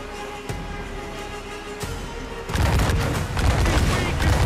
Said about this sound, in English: Three waves of cannons.